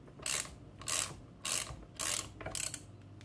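A 1/4 inch drive ratchet works bolts loose on an MTD machine, giving four or five quick bursts of clicking pawl strokes separated by short pauses, close and fairly quiet with no voices.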